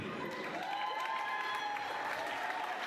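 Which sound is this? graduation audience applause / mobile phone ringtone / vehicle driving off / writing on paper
graduation audience applause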